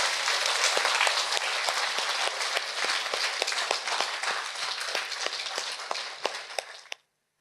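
An audience breaks into dense, sustained applause, many hands clapping together for about seven seconds before stopping abruptly.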